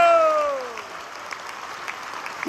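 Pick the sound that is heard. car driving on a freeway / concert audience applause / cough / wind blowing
concert audience applause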